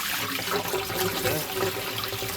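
Cold water running from a tap into a sink during cleaning of a rose globe, a close steady splashing and trickling stream.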